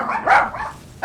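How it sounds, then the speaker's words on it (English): A single dog gives one short, mid-pitched bark, near and fairly loud, with no voices alongside it. "I don't think she'll be as noisy as those dogs."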